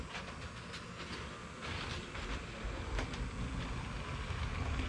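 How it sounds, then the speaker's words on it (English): A Lego City train runs along its tracks with a steady rolling rattle and light rhythmic clicking. It stays close and fairly even throughout, growing slightly louder toward the end. "I can turn the train around still on the same set of tracks"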